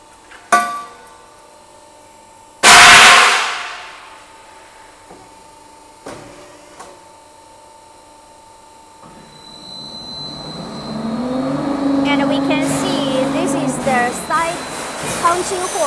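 A scaffolding production line with pneumatic flying cutting runs at high speed: sharp clanks and a loud hissing burst, then a rising steady mechanical hum with whining tones and rattles, close and loud.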